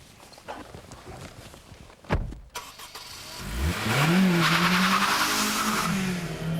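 A Honda VTEC engine revs hard toward its 8,200 RPM limit, rising steadily in pitch and loudness to a sustained high wail after a brief thump and some quieter handling noise.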